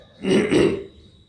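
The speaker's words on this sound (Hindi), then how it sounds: "बीच में डकार आए तो आ जाए" A single burp during a yoga air-swallowing breathing exercise: one short, close, throaty belch of about half a second, heard alone against quiet room tone.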